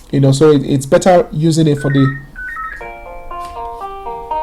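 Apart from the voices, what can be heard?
mobile phone ringing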